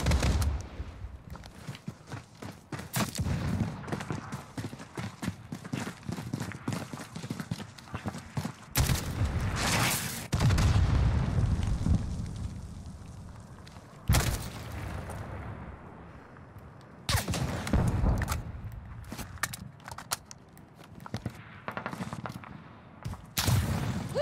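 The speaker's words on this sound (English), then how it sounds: "Is that the person shooting the rocket now?" Gunfire and rocket blasts in Call of Duty: Modern Warfare, a loud, continuous barrage of shots with several heavy bursts standing out, the firing running throughout with little pause.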